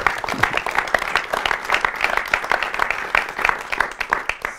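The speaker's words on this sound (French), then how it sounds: "Je vais remercier Olivier, je vais vous demander de l'applaudir" Audience applause at the end of a presentation at a French sports institute, a fairly small crowd clapping in distinct, rapid individual claps that hold steady throughout.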